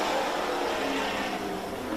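Race cars roar off the green flag at All American Speedway into turns 1 and 2, a dense, loud engine drone from the pack that fades slightly.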